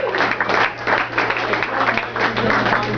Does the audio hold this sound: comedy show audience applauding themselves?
yes